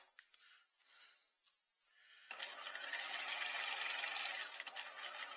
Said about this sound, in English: Move your garment so that it's angled towards the tip of the dart and continue stitching.